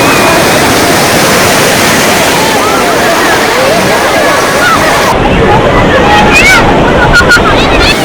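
Waves surge and wash up Perupalem Beach in Andhra Pradesh, India, in a constant roar, with wind buffeting the microphone and faint voices in the background.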